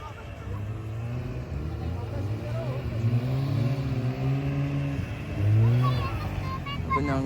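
A snowmobile engine drones steadily close by at Zojila Pass, its pitch rising and falling as it revs, loud and continuous throughout.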